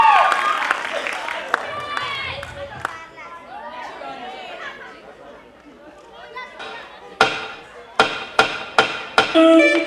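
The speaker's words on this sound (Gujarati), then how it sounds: "યશવી માટે જોરદાર તાળીઓ થઈ જાય" Audience at a dance academy's annual function applauds for a dancer; chatter and crowd noise give way to a cluster of sharp, loud claps near the end, with voices throughout.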